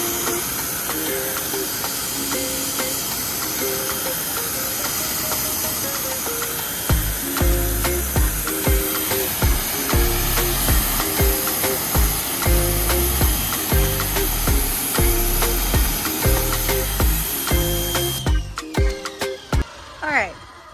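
A pressure washer fitted with a single 40-degree nozzle tip gives a loud, steady hiss of spray throughout, and a person talks over it.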